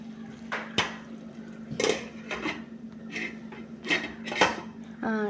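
A spoon clinks and scrapes against a metal pot as crab roast is stirred, with several sharp metallic knocks spread across the clip and a final clatter as a lid is set on top, all close by.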